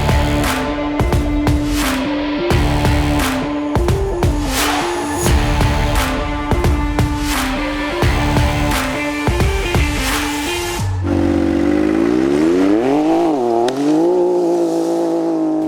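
A Can-Am Maverick X3 Turbo side-by-side prepared as a Dakar rally machine roars and revs hard, engine pitch climbing and dropping through gears, then sweeping up and down in a long continuous wail, loud and close throughout.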